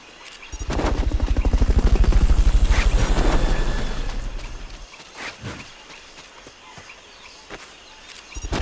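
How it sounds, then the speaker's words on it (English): A helicopter's rotor in Metal Gear Solid Peace Walker thumps in a rapid, loud pulse that swells and then fades after a few seconds, leaving sparse clicks and thuds behind it. "recovery helicopter is complete"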